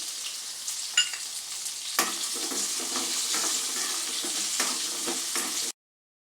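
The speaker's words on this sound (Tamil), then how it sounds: "நம்ம அதையும் இதில் வெங்காயத்தோடையும் நம்ம சேர்த்து வதக்கிடுவோம்" Garlic, ginger and onion sauté in a pan for a Tamil eggplant curry, a close, steady frying sizzle with occasional clicks of stirring, stopping abruptly near the end.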